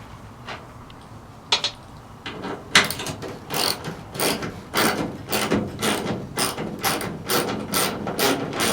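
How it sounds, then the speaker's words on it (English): A small 1/4 inch drive ratchet clicks in quick, steady bursts while undoing the taillight bolts on a Ford F250, close up, with brief pauses between pulls. "I'm using a little 1/4 inch drive ratchet here."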